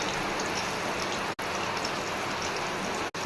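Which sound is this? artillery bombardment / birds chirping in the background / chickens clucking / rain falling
rain falling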